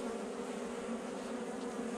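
Dense, steady buzzing of a large honey bee colony being relocated in Paraguay, a continuous close swarm drone with no voices.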